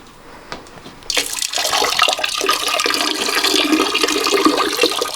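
Water rushes out of the P-trap removed from under a bathroom sink. It starts suddenly and then pours steadily and loudly, close by, for several seconds.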